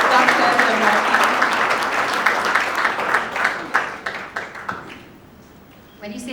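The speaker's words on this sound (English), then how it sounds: "A huge round of applause for this lovely, beautiful lady, Dr. Jamuna Pai." An audience at a book launch gives a round of applause for Dr. Jamuna Pai, with dense, steady clapping that fades toward the end before a brief renewed burst.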